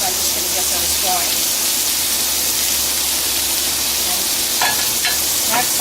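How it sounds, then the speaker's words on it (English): Onions, briefly microwaved, sizzle steadily on a flat griddle, a loud continuous hiss close by with occasional scrapes and stirring clicks, while a person talks over it. "I want them to caramelize on here, so I'm just going to get those going"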